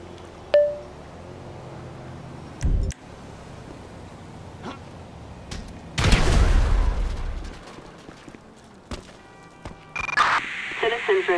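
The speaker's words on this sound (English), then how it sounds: "Stop shooting up my house!" Gunfire in Grand Theft Auto V on PS4, a few sharp shots and bursts at irregular intervals, with a longer loud blast midway, over a low ambient bed.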